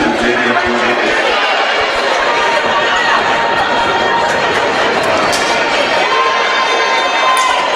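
A high school basketball crowd in a packed gym cheers and chants continuously during a game, a loud, dense roar of shouting voices throughout with no breaks.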